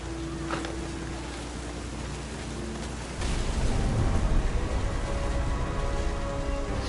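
Rain and thunder roll through the game What Remains of Edith Finch. A continuous rainy hiss is joined by a deep, louder rumble of thunder that swells partway through and holds.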